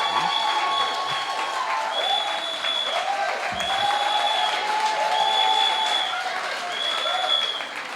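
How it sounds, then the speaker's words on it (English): Sustained audience applause fills a live political youth event, with steady dense clapping and a murmur of crowd voices and faint cheers mixed in, continuing evenly throughout. "Ladies and gentlemen, a round of applause for Mr. Harrow once again."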